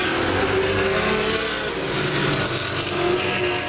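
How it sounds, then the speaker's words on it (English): Race cars roaring around the oval at Laird Raceway during a Thursday Night Thunder event, engines loud and continuous with a steady drone and a hint of tires locking up. "Boy, they're locking tires up, Owen Brown and Brad Bebo."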